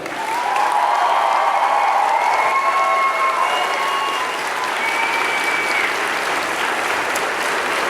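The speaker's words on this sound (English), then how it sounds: "I'd like to ask the members of the graduating class to reciprocate by applauding your family, your friends, the faculty and staff" A graduating class applauds family, friends, faculty and staff at a university convocation ceremony, with loud, sustained, even applause filling the hall, and a few faint whistles or calls rising over it.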